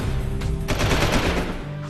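Street turbrets in Jak II fire rapid automatic bursts, a loud close rattle lasting about two seconds with no talk.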